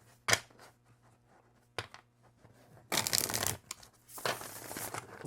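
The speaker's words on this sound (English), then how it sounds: "So it shuffles really nicely" Mass-market cardstock Jack-o-Lantern Tarot cards being shuffled, several short crisp riffling bursts separated by quiet gaps, close and fairly soft, with longer flutters near the end.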